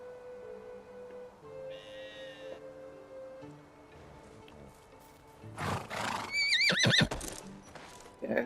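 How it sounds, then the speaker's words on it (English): In the medieval village game Medieval Dynasty, a horse snorts and then lets out a loud, wavering whinny near the end. Hoof clip-clops are faint over quiet ambient tones. "Horsey."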